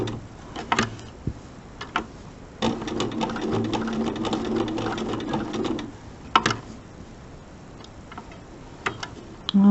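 A sewing machine stitches a small mini quilt in short runs of rapid mechanical ticking, close and fairly quiet, separated by pauses and a few clicks.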